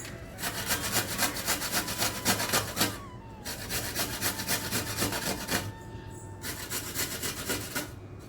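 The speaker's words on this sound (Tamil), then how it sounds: "நான் துருவி பண்ண போகிறேன் வாங்க அதை துருவிடலாம்" Indian gooseberries (amla) are grated for thokku in a steady, fast rhythm of rasping strokes against a grater. The scraping runs close and continuous with two brief pauses, and no one speaks.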